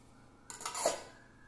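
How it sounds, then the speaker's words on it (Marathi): A lid set down on a pot of sorghum soaking in water gives one short metallic clatter with a brief ring, alone in an otherwise quiet room. "यावर झाकण ठेवूया"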